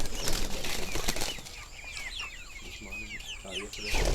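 Broiler chickens cluck and squawk in a close, busy chorus on a farm, with a burst of wing flapping at the start and again near the end.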